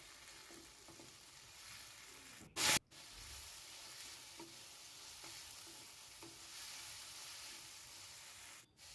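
Tomatoes stir-fried for a short while in a pan while making semolina upma, giving a steady soft sizzle with light scraping stirs throughout and one loud clattering knock partway through.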